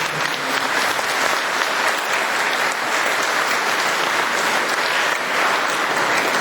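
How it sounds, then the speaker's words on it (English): Sustained applause from a party conference audience, UKIP Conference 2009, dense steady clapping filling the hall throughout without pause. "I think the West Midlands actually deserves a round of applause."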